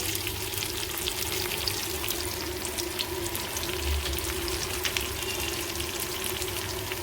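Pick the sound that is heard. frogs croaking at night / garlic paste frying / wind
garlic paste frying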